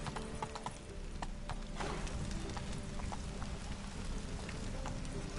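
Roach, a horse in The Witcher 3, clip-clops along at a steady walking pace, hoofbeats close and regular over a soft ambient background.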